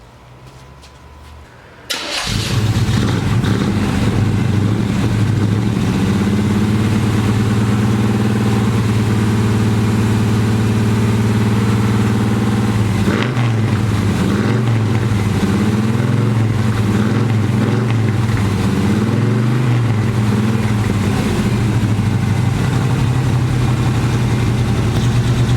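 A 350 engine treated with Seafoam cranks briefly, catches after about two seconds and then settles into a loud, steady, low idle that holds for the rest of the stretch, close by, with no talking.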